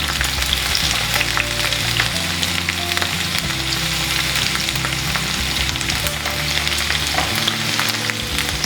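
Ivy gourd pieces fry in a pan for masala, giving a loud, steady sizzle with scraping stir sounds up close and no talk.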